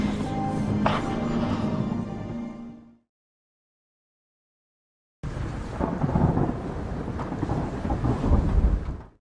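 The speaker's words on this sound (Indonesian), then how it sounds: "Jay terbangunkan hujan badai yang mulai menerjang pantai ini" A rainstorm with thunder lashing a beach at Pangandaran at night: loud, steady roaring rain with deep rumbling, cut off by a few seconds of silence before the downpour and rumble resume just as strong.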